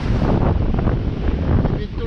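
Strong wind buffeting the microphone aboard a sailboat at sea in a 17-18 knot breeze, a loud continuous rushing roar with faint water sounds beneath.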